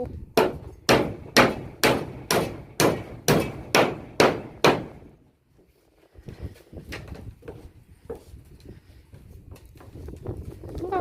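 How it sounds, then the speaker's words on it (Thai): Steady hammer blows drive nails, about eleven sharp evenly spaced strikes close by, followed by quieter scattered knocks and background activity at a rice field hut build. "มันกำลังตอกตะปู"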